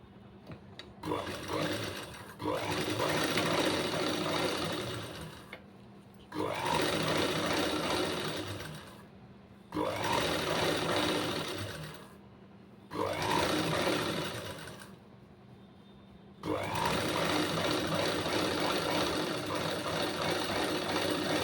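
A computer embroidery sewing machine stitches a neck design in long, loud, steady mechanical runs, broken by several short pauses, with no talking.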